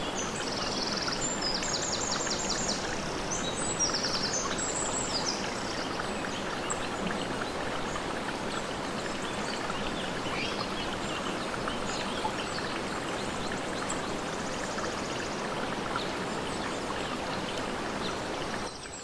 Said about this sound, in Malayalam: ഒരിടത്ത് വെള്ളം പൊഴിയുന്ന ശബ്ദം കേൾക്കാം